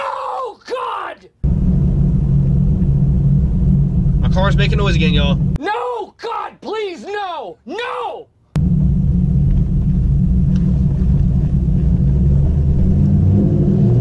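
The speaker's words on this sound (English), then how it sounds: "My car's making noise again, y'all." A car makes an odd, steady low rumbling drone that runs through most of the stretch, while a woman cries out and talks over it.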